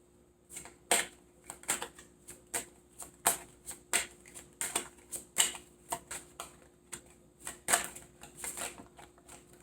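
Tarot cards shuffled and handled in a quiet room, a run of close, crisp riffling snaps and flicks repeating irregularly every half second or so, fairly soft with no talking.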